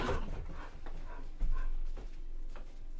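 A pet dog barks a few muffled times at home, the barks fairly close but soft, over a low background.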